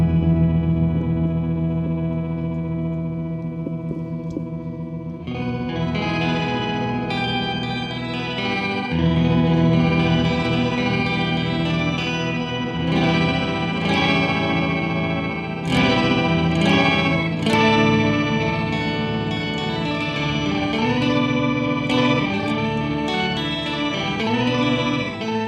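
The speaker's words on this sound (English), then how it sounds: "put a little delay behind that and have that going" An Electro-Harmonix keys emulator pedal with delay behind it plays a guitar through an organ-like tone, with sustained chords and then busier notes that repeat and trail off in echoes, loud and free of talk.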